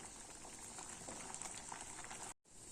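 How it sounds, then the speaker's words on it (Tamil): Pulao and butter paneer masala boil steadily in a pot with a dense, fizzing bubble texture, briefly cutting out near the end before resuming. "நல்லா கொதிச்சிச்சு பாருங்க."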